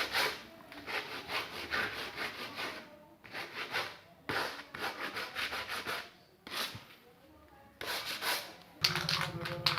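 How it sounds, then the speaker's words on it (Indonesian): Repeated back-and-forth scraping of sandpaper by hand on wood for a table, in steady bursts with short pauses, close and fairly loud. "kita amplas"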